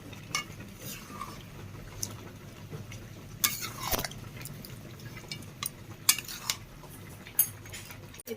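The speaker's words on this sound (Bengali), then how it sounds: "আলুটাও দিয়ে দিচ্ছি, আমরা নাড়িয়ে দেবো।" A spoon scrapes and clinks in a pan as potatoes are stirred into skin chicken curry, with faint sizzling underneath and a few sharper knocks against the metal.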